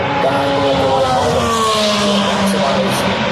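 A race car roars past at Indianapolis Motor Speedway, its engine note sliding downward as it goes by over a steady, loud rumble.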